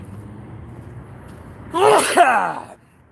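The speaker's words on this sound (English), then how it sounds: "Oh, gotta sneeze." A single loud sneeze bursts out after a quiet stretch of faint background hum, trailing off within about a second.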